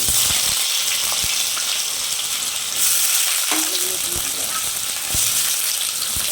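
Potatoes and torn dried red chilies fry in hot oil for red amaranth stem chachchari, a steady close sizzle with occasional spatula scrapes and stirring clicks, no talk over it.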